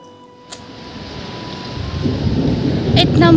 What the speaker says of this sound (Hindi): इतना बुरा तूफान चल रहा है कि मैं आपको बता नहीं सकती।